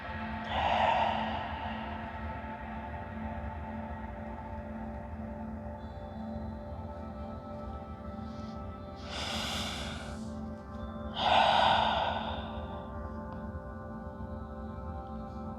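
Slow, deep breaths during a somatic yoga session: a long exhale at the start, then two more audible breaths near the end, separated by quiet stretches over a low room hum.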